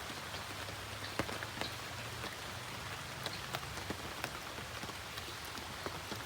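Rain falls steadily onto a natural fish pond outdoors, a soft even hiss of countless drops with occasional sharper single patters standing out, faint and continuous with no talking.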